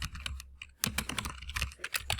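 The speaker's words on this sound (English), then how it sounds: "Like this, just type it in." Rapid keystrokes on a computer keyboard while entering items into a kitchen renovation checklist spreadsheet, close and clicky, in quick irregular bursts with no voices.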